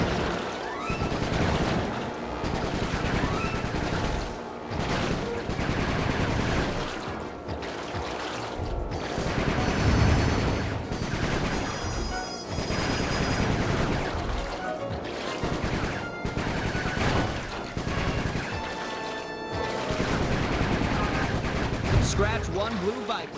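In the Sly 3 video game, a gun fires in short bursts of rapid shots with brief pauses between them, loud and close over busy game music and effects.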